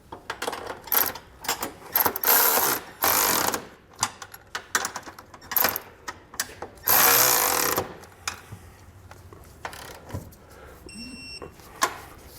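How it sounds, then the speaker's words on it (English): Busy clicking and ratcheting of a socket wrench with a 19mm socket tightening trailer hitch bolts on a 2022 Kia Telluride, in irregular bursts with metallic clatter and a brief high electronic beep near the end. "We're going to start with our 2 bolts on top here using a 19mm socket and wrench"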